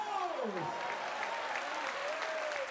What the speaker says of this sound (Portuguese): bata palmas a Jesus